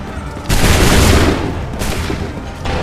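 Musket volley gunfire in the Assassin's Creed 3 game: a loud, sudden burst of massed shots that rolls on for about a second, then a second, quieter volley and another burst near the end.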